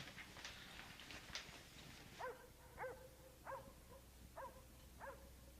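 Neighbors' dogs barking in the distance after treeing a cat, a run of five or six faint, evenly spaced barks heard outdoors over a low background rumble.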